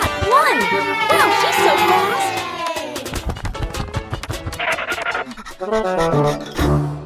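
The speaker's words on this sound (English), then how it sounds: "The cheers from the crowd get louder" Animated crowd of cartoon spectators cheering at a race, with excited shouts and squeals rising and falling, mixed with lively voices and brief bursts of noise.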